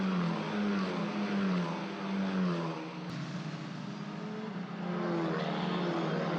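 Formula 4 race cars run at the Monza circuit, their engines a continuous far-off drone with slowly rising and falling pitch, steady and moderately loud, without speech.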